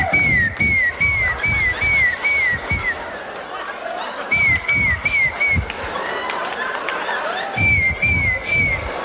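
A voice mimics a whistling nose, repeating short high squeaky whistles in quick bursts between laughter and audience noise from a live comedy crowd.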